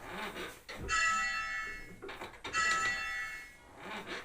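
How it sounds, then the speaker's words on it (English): A learner rings a church bell up in a tower at Kirkburton, the bell sounding in two clear strikes with long ringing tones between rope thuds and handling noise. "the reason I like to start people by ringing the bell up like that"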